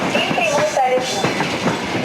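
Railway wagons roll through the Tapa hump marshalling yard in Estonia, a loud, steady rumble broken by rhythmic wheel clatter and brief wheel squeals.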